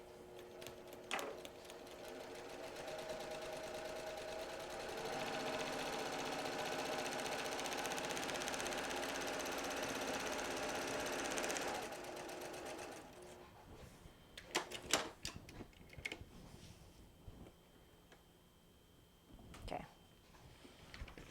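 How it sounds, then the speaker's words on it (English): Sewing machine stitching a log cabin quilt block, a steady mechanical whir running for about twelve seconds before stopping, followed by handling clicks and soft talking. "we're stitching from there all the way down to this spot right here"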